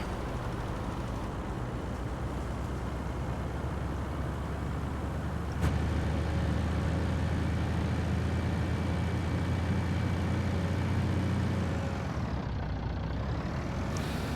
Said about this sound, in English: Well, Kenworth, she'll get up and move.